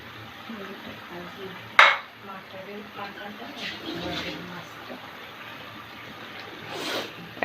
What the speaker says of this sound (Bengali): এখন আমি দিয়ে দিচ্ছি মশলা দিয়ে মাখানো এই মাছগুলো।